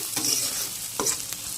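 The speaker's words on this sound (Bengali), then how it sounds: "ভালো করে একটু মশলাটা ভেজে নেব" Masala with Kashmiri red chilli powder sizzles in oil in a pan for a coriander fish curry, a close steady frying hiss with a couple of brief stirring scrapes and no talk.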